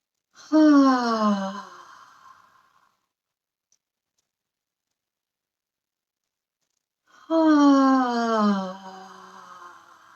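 Two long, audible breaths come during a qigong dancing butterfly exercise, each a falling sigh-like exhale lasting about two seconds, separated by silence, close and clear.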